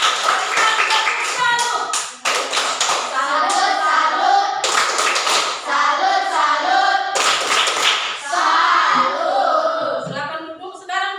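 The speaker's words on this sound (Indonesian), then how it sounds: "tepuk tangan buat kelompok 1" A classroom group of children applauds a presenting group, a dense, steady patter of many hands clapping at once that runs almost without a break, with children's voices mixed in.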